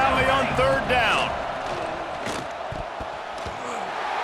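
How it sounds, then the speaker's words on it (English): A big stadium crowd in Happy Valley roars on third down at a Penn State versus Notre Dame football game, a broad steady wash of noise under a commentator's voice. "Here comes the noise from this big crowd in Happy Valley on 3rd down"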